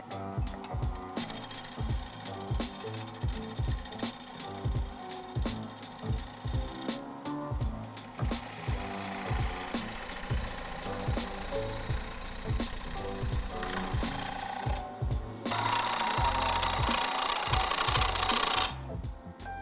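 Wood lathe with a bowl gouge cutting the undercut rim of a turned wooden bowl, a continuous scraping, chattering cut with rhythmic thumps that pauses briefly twice and grows louder toward the end.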